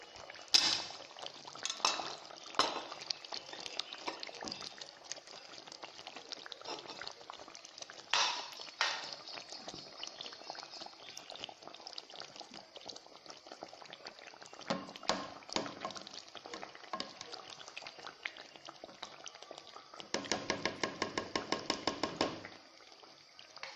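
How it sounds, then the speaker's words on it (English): Chopped onion drops and clatters into a simmering stew in a pot, with soft scattered taps, brief scraping and a steady low simmer underneath, close by. "So I'll pour it into the stew."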